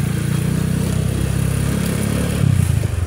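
A Rusi Sigma 250 motorcycle engine runs while being ridden, a close, loud, buzzing drone with a steady pulsing rhythm that swells briefly as the throttle opens near the end.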